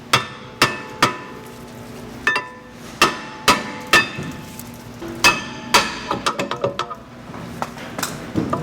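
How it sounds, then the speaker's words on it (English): A hammer strikes a Volvo XC70 brake rotor repeatedly to loosen it, with sharp ringing clangs, first spaced apart, then in a quicker burst of lighter taps, close by with no talking. "you might need your hammer to help you remove the rotor. Just gonna hit on the side, on top"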